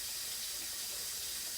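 Cold water runs steadily from a kitchen tap into a sink, a continuous close hiss and splash with no talking.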